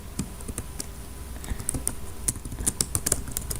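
Quick computer-keyboard keystrokes while React code is entered, coming in uneven bursts of close, crisp clicks that grow busier toward the end, with no talking.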